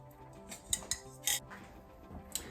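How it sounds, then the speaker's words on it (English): Peeled, chunked russet and Yukon Gold potatoes are dropped into a pot for gluten-free Polish dill pickle soup, giving a run of knocks, clinks and clatters against the pot, close and moderately loud. "I've got some peeled and chunked potatoes that I'm going to add"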